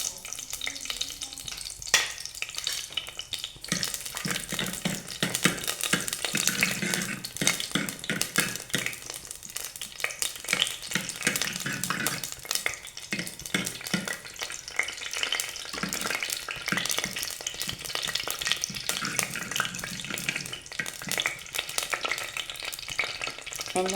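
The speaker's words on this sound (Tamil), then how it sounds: "முக்கியமாக கடுவையும் வெந்தயத்தையும் நான் எண்ணெயில் போட்டுட்டேன்." Mustard seeds and fenugreek fry in hot oil for a meat curry, giving a steady close sizzle with fast crackling pops and occasional stirring scrapes throughout, no voices.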